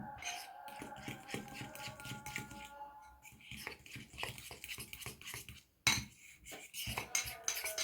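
A utensil stirs a lemon glaze for a Dr. Oetker cake in a bowl, making quiet, quick, rhythmic clinks and scrapes close by with a few louder knocks.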